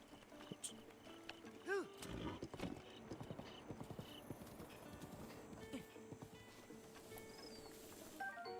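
A horse's hooves clip-clop at a steady trotting rhythm in Breath of the Wild, with a brief whinny early on and soft ambient game sound underneath.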